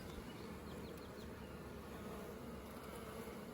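Steady, faint buzzing of honeybees around an open top bar beehive during a spring inspection, a continuous low drone with no voices.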